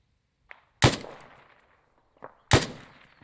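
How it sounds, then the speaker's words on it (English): Enemy gunfire in the video game Arma 3: two sharp, loud shots about a second and a half apart, each preceded by a faint click and trailing off in a ringing echo. "Now they're shooting at me."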